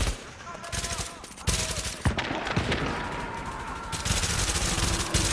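Rapid automatic gunfire from The Division video game, dense bursts of shots with short pauses between volleys, loud and close, and speech is likely mixed in.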